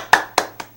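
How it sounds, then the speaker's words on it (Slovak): Three sharp, separated hand claps, loud and close, with a steady low hum underneath and no talking. "za to si vyžaduje pekný potlesk."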